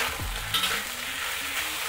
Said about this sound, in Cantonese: 咁我哋要等個肉咧喺個鑊上面煎一煎